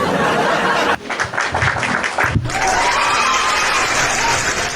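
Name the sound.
person clapping for himself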